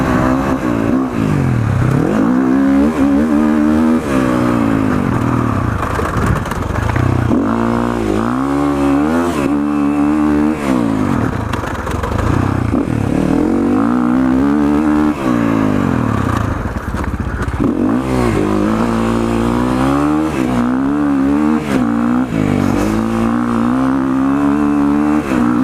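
Sherco 450 SCF Factory cross-country dirt bike ridden over whoops and tabletop jumps, its engine close and loud, revving up and down continuously with rising and falling pitch throughout.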